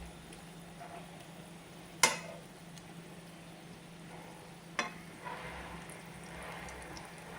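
Beetroot pieces frying on a low flame are turned over in the pan, a quiet faint sizzle with two sharp utensil clinks and a soft scrape, no talking.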